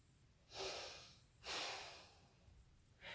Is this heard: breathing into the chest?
yes